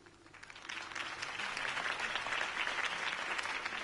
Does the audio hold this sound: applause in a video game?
yes